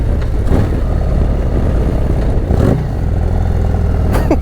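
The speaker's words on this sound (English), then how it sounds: "let's get some rev matching sounds on here" Harley-Davidson motorcycle with a 135ci crate engine revving during rev-matched downshifts, loud and close, with three sharp rising blips over a steady rumbling idle.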